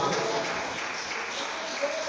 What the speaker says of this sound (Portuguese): Será que você pode aplaudir ao Senhor por esta palavra, irmão?